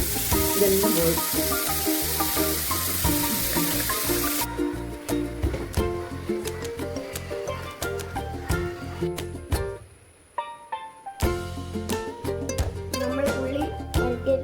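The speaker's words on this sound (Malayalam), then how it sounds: "ചിക്കൻ ഫ്രൈ ചെയ്ത എണ്ണയിൽ കുറച്ച് സവാള എടുക്കാം, വരട്ടിയെടുക്കാം." Onions sautéing in oil left over from frying chicken, a loud bright sizzle at first that settles into rhythmic stirring scrapes, with a short near-silent gap before the frying resumes; a voice speaks briefly.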